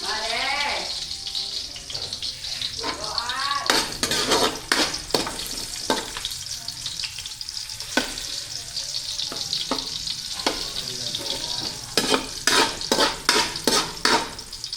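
Chopped garlic sizzles in a hot pan for a mussel dish, a steady bright hiss broken by repeated scraping stirs of the utensil; a voice speaks briefly over the frying at the start.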